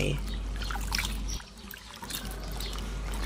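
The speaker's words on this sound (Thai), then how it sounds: "ก็จะนำมา แช่น้ำปูนใสนะคะ" Limewater pours and trickles over cut pumpkin pieces being soaked for a Thai sweet dessert: a continuous close splashing stream that briefly drops away, then resumes.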